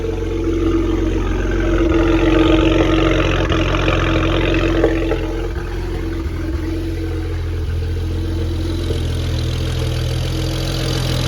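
A modified 2007-era BMW 335is with the N54 twin-turbo six idles steadily and close up, a low, even engine hum running throughout with a slight swell early on and no talk.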